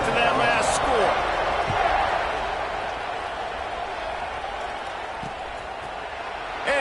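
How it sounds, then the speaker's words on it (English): A stadium crowd in a college football video game keeps up a loud, steady buzzing roar after a score, with a commentator's voice talking over it throughout. "this crowd is buzzing after that last score"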